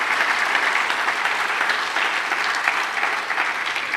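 An audience applauds steadily at a Bharatanatyam Arangetram in Birmingham, a dense, even wash of many hands clapping at moderate level throughout, with no voices over it.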